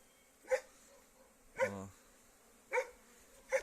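Honeybees buzz at a spring apiary in March, with a low steady hum from the hives broken by four short, louder bursts roughly a second apart as bees pass close by.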